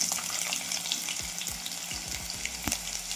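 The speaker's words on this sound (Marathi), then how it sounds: "कांदा पण छान भाजून घेऊया." Onion frying in a hot pan with mustard seeds and cumin, a steady close sizzle with crackles and a few scraping stirs and metallic clinks, no talking.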